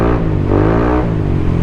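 A Yamaha Aerox 155 v.2 Standard Edition 2024 scooter fitted with a JVT Pipe v.3 exhaust revs up close and loud, its engine note climbing and falling once in a short blip.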